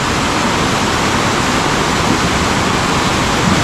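Rushing mountain creek swollen after heavy rain, a loud continuous roar of fast-moving water carrying debris, steady and close with no break.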